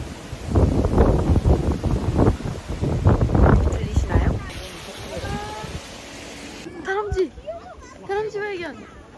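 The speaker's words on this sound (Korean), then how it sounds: "바람 소리." Gusty wind buffets the microphone outdoors on a mountain on a sunny day, a loud rumbling rush for several seconds before it drops away and voices talk.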